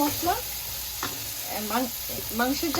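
Cumin, coriander powder and dried chillies fry in hot oil with a soft, continuous sizzle, overlaid by short, rising voice-like tones.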